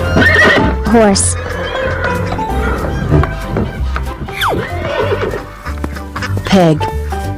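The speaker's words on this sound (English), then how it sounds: "Horse." A horse neighs loudly several times in a farm-animal sound compilation, its whinnies rising and falling over a busy background with clip-clop hooves and faint fowl calls.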